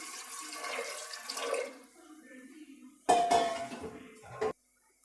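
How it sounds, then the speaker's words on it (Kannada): Water is poured into a pressure cooker over soaked chickpeas on a stove, a soft rushing splash for about two seconds, then a sharp metallic clank and a brief clatter before it stops. "ಕಡಲೆ ಮುಳುಗುವಷ್ಟು ನೀರು ಹಾಕ್ಕೊಳ್ತಾ ಇದ್ದೀನಿ."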